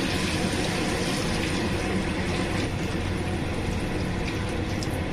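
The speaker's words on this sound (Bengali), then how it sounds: "জল দিয়ে দিব।" Water poured into a pot of spiced eggplant and potato being cooked down for a Chital fish curry, a steady, continuous rushing and splashing close by with no talk.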